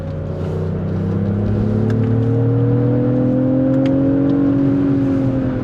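A Lexus GX550 Overtrail+ SUV pulls hard under acceleration, its engine note rising smoothly and loudly inside the cabin with a gear change midway as the paddle-shifted 10-speed works down through the gears.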